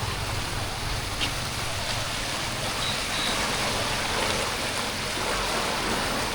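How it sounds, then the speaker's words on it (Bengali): The Kopai river near Prantik, outside Bolpur, flows with a steady broadband rush of water that stays even and continuous throughout, with no voices over it. "দেখেছেন জলের স্রোত দেখুন"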